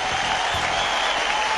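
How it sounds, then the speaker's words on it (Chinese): Studio audience on a Chinese dating show applauding a woman, a brief burst of dense clapping filling the room, steady and fairly loud. "全场应该把掌声送给她"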